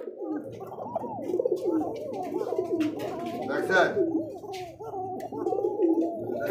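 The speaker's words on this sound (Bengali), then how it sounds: "এই যে দেখেন ফুটফুটে দুইটা বাচ্চা ককা কবুতর" A pair of domestic pigeons with two chicks coo in a rolling, throaty pattern close to the microphone, the calls running almost continuously while someone briefly speaks.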